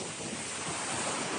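Super typhoon winds and surf at landfall, a dense steady roar of gusting wind and crashing waves with no voices.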